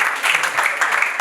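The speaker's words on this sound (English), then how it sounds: "Can you clap for me?" Brief burst of applause, a crowd clapping densely and steadily for about a second.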